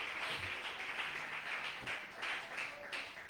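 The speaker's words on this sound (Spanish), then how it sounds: "darle ese aplauso al Rey de la Gloria" A church congregation applauds during a pastor's sermon, a moderately distant patter of many hands that swells and eases in waves over a few seconds.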